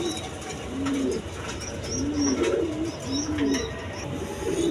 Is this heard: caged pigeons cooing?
yes